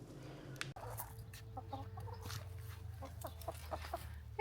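Several chickens cluck softly in short bursts nearby, over a low background hum, with a sharp knock near the start.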